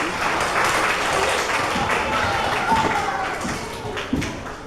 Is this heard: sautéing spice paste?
no